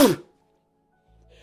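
A single sharp, close sneeze bursts out at the start and cuts off quickly, leaving near silence followed by a faint low hum.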